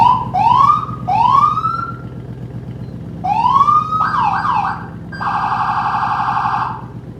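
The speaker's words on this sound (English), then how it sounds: "It has the full siren setup." A police siren cycles through rising wails, warbling yelps and a steady high tone, loud and close, with an engine idling underneath and no talking.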